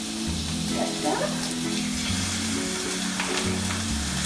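Chicken pieces for curry fry in a pan with a steady close sizzle and crackle, an occasional stir or shifted piece adding brief scrapes, with no talking.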